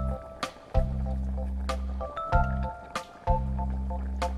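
Hot pot broth poured into a bowl of sesame paste sauce mixed with soy sauce, vinegar, salt and sugar: soft wet squishes and drips recur over a low steady hum, close and moderately quiet.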